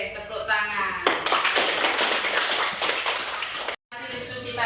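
Schoolchildren in a classroom applaud together, a loud, dense run of hand claps from a crowd of students that follows a voice, cuts off abruptly, then resumes briefly.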